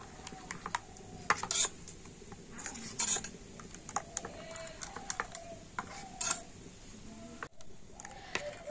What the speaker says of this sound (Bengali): তো বেকিং পাউডার দিয়ে আবারও ব্যাটারটা একটু ভালো করে মিশিয়ে নেব।